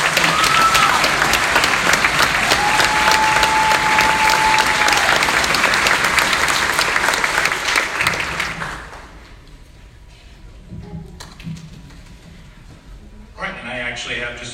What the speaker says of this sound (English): would y'all please give him another round of applause?